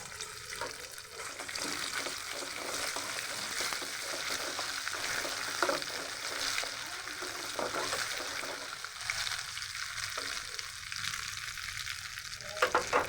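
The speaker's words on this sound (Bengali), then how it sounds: "তেলটা আমার গরম হয়ে গেছে। এখন দিয়ে দিচ্ছি সরিষা বাটা 3 চামচ।" Three spoonfuls of mustard paste hit hot soybean oil in a pan while making raw mango pickle, giving a loud, steady sizzle and crackle with occasional stirring sounds throughout.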